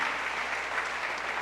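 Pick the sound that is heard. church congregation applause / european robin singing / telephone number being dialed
church congregation applause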